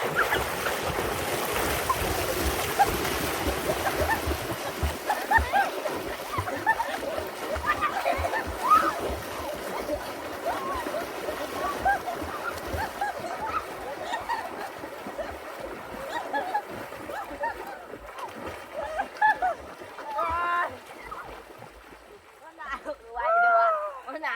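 Children swim and splash in a backyard pool on a hot day, with continuous watery splashing and sloshing close by, mixed with light wind noise and their voices talking and calling out throughout.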